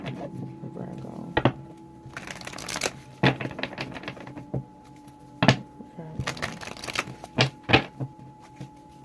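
Close-up riffles of a tarot deck being shuffled come in several quick, crisp bursts separated by short pauses, with a faint steady hum underneath.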